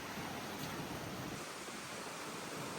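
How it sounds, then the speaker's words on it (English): Strong wind buffets a microphone on a bald mountain summit, a steady, loud broadband roar that blankets the whole stretch without pause. "Poor thing, it's so windy"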